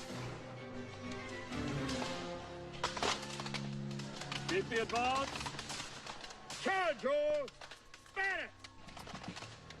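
Musket volleys of an eighteenth-century battle at Quebec, with scattered cracks and rattling fusillade rising over a busy mix of shouting and commotion, bursts coming in uneven clusters throughout.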